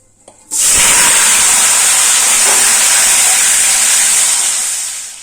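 Boiled potatoes tipped into hot oil tempered with cumin seeds and a whole dried red chilli give a sudden loud sizzle. It holds as a steady bright hiss, then eases slightly toward the end, with no talking.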